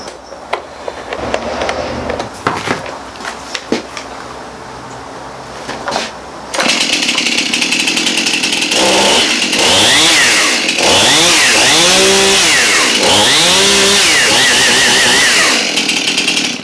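A Stihl Farmboss chainsaw being pulled and started after some handling noises, then running loudly up close with its engine revving up and down repeatedly.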